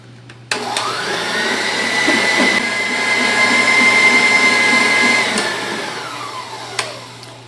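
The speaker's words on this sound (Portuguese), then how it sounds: "as gemas precisam ser bem batidas com o açúcar e a baunilha. Voltaremos agora a bater." An electric mixer beats egg yolks with sugar and vanilla for a chocolate mousse cake. A loud, steady motor whine starts abruptly, holds for several seconds and then winds down, with a brief knock near the end.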